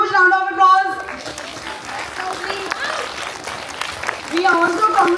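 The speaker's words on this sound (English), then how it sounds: "Let's give them a huge round of applause." Crowd at a school Founders Day celebration claps for the winners, steady applause rising between stretches of a speaker's amplified voice at the start and end.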